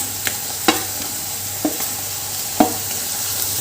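Chopped cabbage and other vegetables stir-fry in a hot pan, a constant close sizzle broken by a few sharp scraping clacks of a spatula against the metal, with no talking.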